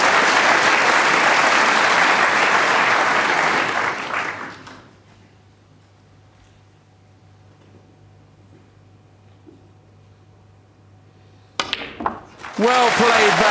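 A packed crowd at the 2013 World Snooker Championship final applauds Barry Hawkins' fifth century break of the tournament. Loud, dense clapping lasts about four seconds, then fades into a hushed arena before a few scattered sounds return.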